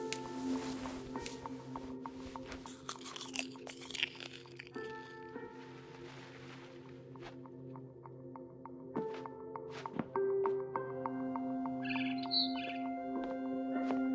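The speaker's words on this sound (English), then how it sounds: "Then I heard chirping outside my window." Barn swallow chirping outside a window in the game What Remains of Edith Finch, sharp, high twittering calls scattered among soft thuds and squishy sounds, fairly quiet, with no voices.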